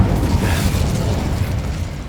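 The Incendio fire spell is cast in Hogwarts Legacy, a loud, roaring burst of flame that stays thick and sustained for about two seconds before easing slightly.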